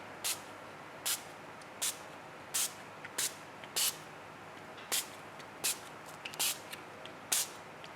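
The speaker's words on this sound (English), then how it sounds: "we're going to spritz it with some gold, iridescent gold." A pump spray bottle spritzes iridescent gold paint onto a journal page, about eleven short, sharp hissing bursts spaced roughly every half second to second, close and clear with no talking.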